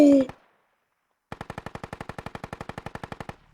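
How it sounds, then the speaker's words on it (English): A technical vehicle's mounted gun fires frag rounds in Squad, a rapid even burst of about twenty sharp close shots after a brief loud blast and a second of silence. "the technicals moving around might get a chance to shoot some frag rounds here"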